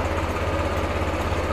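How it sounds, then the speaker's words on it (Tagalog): A Honda Click 125/150i scooter engine idles steadily just after starting, a loud, close, continuous low rumble with an even pulsing throb and no voices over it. "so umandar na guys yung motor"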